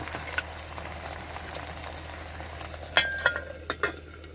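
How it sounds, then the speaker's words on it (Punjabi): Onions with salt fry in a pan with a soft steady sizzle, joined near the end by a few sharp clinks of a utensil against the pan. "ਪਿਆਜ਼ ਥੋੜਾ ਨਮਕ ਪਾ ਦਿਓ ਫਿਰ ਛੇਤੀ ਭੁੰਨ ਹੋ ਜਾਂਦੇ"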